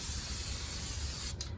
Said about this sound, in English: I like to spray the back of my stencil so it sticks and reduces the bleed through